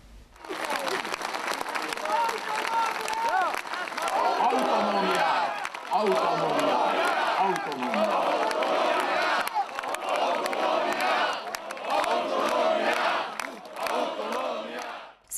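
A crowd of about 4000 people at a Székely Freedom Day autonomy rally in Marosvásárhely, loud and sustained, with shouting, chanting voices and cheering blending into a steady outdoor roar.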